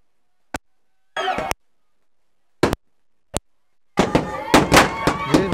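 Firecrackers bursting in a village during Diwali: several sharp, isolated bangs with silence between, then a dense, louder run of crackling pops at the end; no talk.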